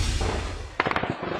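Gunfire rings out during a clash between the military and rebels in Toboso, Negros Oriental: a quick cluster of sharp shots cracks out against a rumbling outdoor background.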